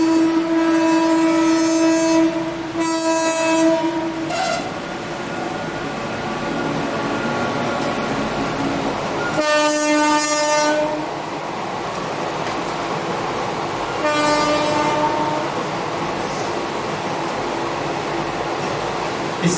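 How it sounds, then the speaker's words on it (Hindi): A train passes close outside, a loud continuous rumble of rolling wagons lasting throughout, with long horn blasts sounding several times over it. "ये जब तक ट्रेन जा रही है तब तक मैं लिख देता हूँ"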